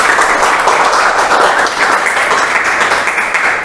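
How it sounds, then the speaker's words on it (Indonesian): Students in a classroom lesson applaud a classmate, a close, loud, even burst of many hands clapping together without a break. "tepuk tangan dulu untuk Mita ya."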